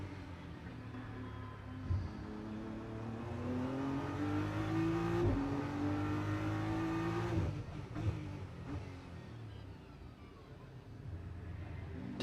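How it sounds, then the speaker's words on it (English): A GT race car's engine note rises steadily during 2025 free practice as it climbs past Dona Maria toward the hairpin at the Macau Grand Prix street circuit, then drops sharply as the driver backs off. Loud and close, with brief hesitation. "You can tell off the engine note where he's just slightly hesitant where he commits."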